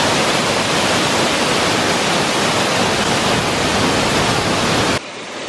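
Glen Ellis Falls in New Hampshire pours with a loud, dense, unbroken roar of falling water that holds steady before dropping off abruptly near the end.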